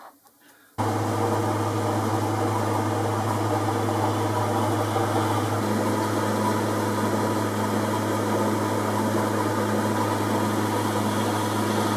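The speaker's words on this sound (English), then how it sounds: "I fitted it in a 4-jaw chuck and I'm facing off the part." A metal lathe starts up and runs steadily while facing off a part held in a four-jaw chuck, giving a continuous close hum with a faint high whine throughout.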